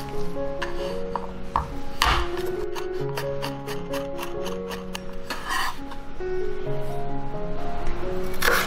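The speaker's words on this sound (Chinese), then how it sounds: "接着来剁点蒜蓉。" Garlic minced with a knife on a cutting board, a run of quick sharp chopping taps at an uneven rhythm, heard close up under background music.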